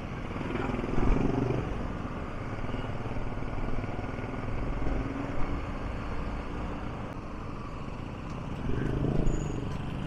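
Several geared-up motorcycles ride together in a line, a low engine rumble that swells and fades as bikes pass, with wind noise throughout.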